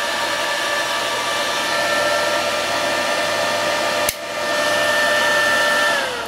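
A loud, steady electrical whir and hum from a cheap mini inverter arc welder drone close by, briefly dropping out with a click before resuming just as strongly.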